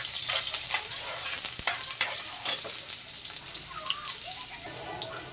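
Sliced onion and garlic sautéing together in a hot pan for bitter melon with tomato and egg, giving a continuous close sizzle with occasional stirring scrapes and soft wet crackles.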